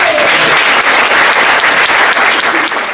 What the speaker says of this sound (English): big round of applause to all the Max guys